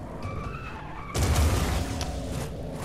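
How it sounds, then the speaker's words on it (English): A car engine in the video game Just Cause 4 hums, then surges into a louder roar with a burst of tire skidding, close and continuous. "Plus, the engine sounds awesome."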